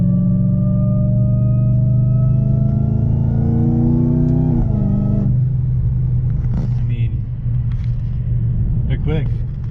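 A heavily modified Dodge Hellcat with an automatic transmission accelerates hard, engine pitch climbing steadily then dropping at a quick shift, followed by a lower steady rumble as a voice talks over it.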